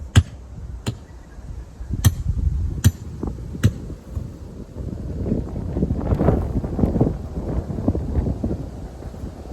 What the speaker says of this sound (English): The wind's blowing as well